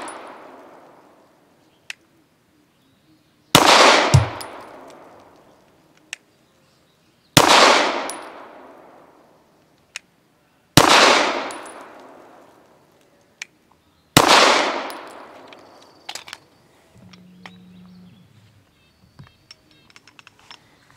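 Grand Power Q100 pistol fired at steel targets outdoors: four loud, sharp shots spaced a few seconds apart, each with a fading ring, plus faint distant pings and small clicks.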